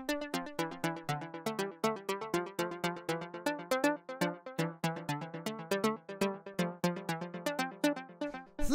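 A melodic synth lead for melodic house and techno plays short, plucky, syncopated notes in a busy repeating pattern, alone and fairly quiet, with a crisp attack on each hit.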